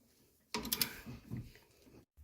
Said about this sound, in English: now I'm going to be holding the nut while he ratchets on the bolts with the torque wrench